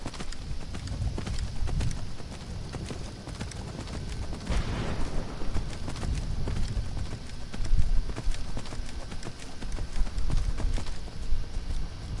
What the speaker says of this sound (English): Got ourselves an undead horse.